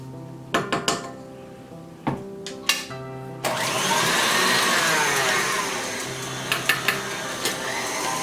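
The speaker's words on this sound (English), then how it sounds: "Stirring my mixture, making sure all the eggs are mixed in." An electric mixer works eggs into coffee cake batter in a kitchen. A few clinks and knocks come first, then a steady whirring drone takes over and holds for several seconds, with light clatter near the end and no talk.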